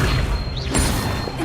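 Incendio fire spell cast in the Hogwarts Legacy video game, a sweeping whoosh with a rising swish and a thumping burst, loud and continuous over a low rumbling background.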